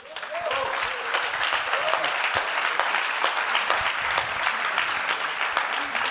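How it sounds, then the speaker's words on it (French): An audience applauds at a Sacem event, a full steady round of clapping with a few brief voices calling out underneath, sustained at even volume for several seconds. "je vous demande d'applaudir"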